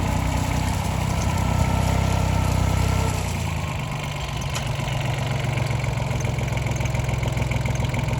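A small tractor engine idles steadily with a low, chugging rumble that drops slightly in pitch and loudness partway through, then keeps running evenly.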